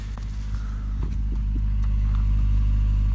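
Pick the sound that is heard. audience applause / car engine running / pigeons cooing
car engine running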